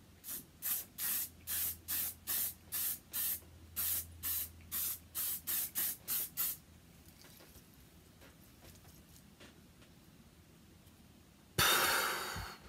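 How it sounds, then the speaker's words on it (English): A can of hairspray gives about fifteen short, evenly spaced hissing sprays, close and loud, then a pause of faint room noise before one longer final burst. "I think this is like legit hairspray."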